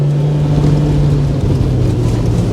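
Honda Civic EK9 engine pulling hard in second gear on a mountain road, a loud, steady close-up drone that holds its pitch for the whole stretch.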